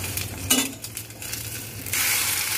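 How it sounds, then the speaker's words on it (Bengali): An egg fries in a pan with a close sizzle, soft stirring and utensil scrapes, the hiss swelling louder toward the end, no talking. "এখন একটা ডিম ভাজা হবে"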